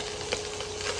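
Chicken pieces stir-fried in a wok for Buddha Jumps Over the Wall, a close, steady sizzle with light scraping stir strokes, no voices.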